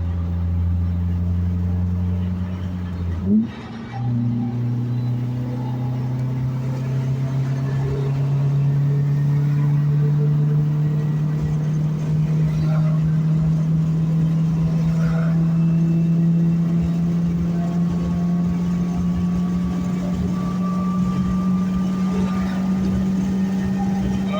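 Turbocharged car engine pulling hard under acceleration, a steady drone climbing in pitch after a brief bump near the start, heard from inside the cabin with road rumble and no talking.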